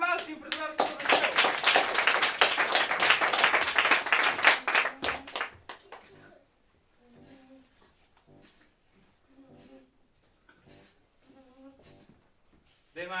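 An audience at an improv comedy show claps loudly and steadily for about five seconds, then the applause dies away and voices talk.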